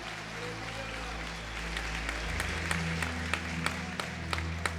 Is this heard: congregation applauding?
yes